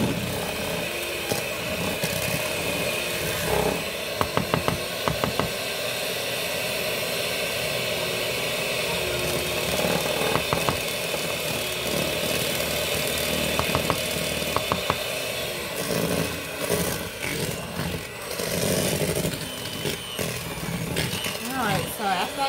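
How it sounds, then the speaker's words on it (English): Peach cobbler pound cake batter churning in a mixing bowl as the sides are scraped down, giving a loud, steady motor-like whir with occasional brief scraping knocks throughout. "So always make sure you scrape the sides off so it mixes right."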